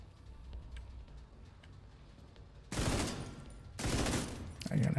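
Video game weapon emptying a full magazine: two dense, loud bursts of rapid automatic gunfire, each sustained for about a second, over a quiet background.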